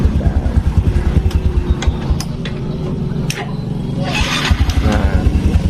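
The electric starter of a Honda Blade motorcycle cranks in rapid rhythmic pulses, with clicks and brief pauses partway through, heard close up.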